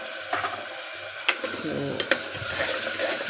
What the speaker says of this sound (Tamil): இதையும் போட்டு நல்லா வதக்கணும்